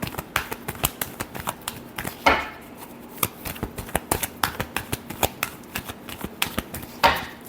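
Tarot cards are shuffled close up in a long run of crisp, rapid clicks and taps, with two louder riffling flurries partway through and no talking.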